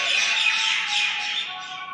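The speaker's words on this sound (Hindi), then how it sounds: "ऐसे आवाज़ें सुना करो चिड़िया होगी।" A bird squawks and chirps loudly and close by, a harsh, continuous call lasting a couple of seconds with no voices over it.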